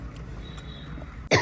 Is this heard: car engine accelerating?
no